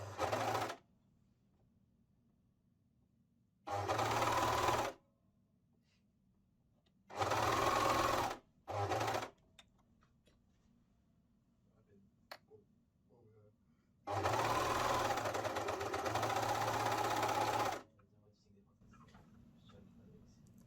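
A sewing machine stitches a seam on a garment in close, loud bursts of rapid whirring, some about a second long and one lasting several seconds, separated by quiet pauses.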